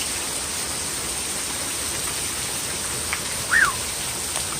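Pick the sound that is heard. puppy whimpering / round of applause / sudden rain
sudden rain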